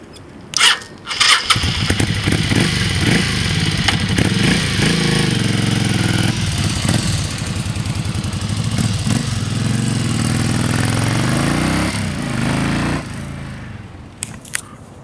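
A 1996 Kawasaki Vulcan 750 (VN750) motorcycle cranks with a few brief bursts, then fires up and settles into a steady, close idle with small revs, fading out near the end.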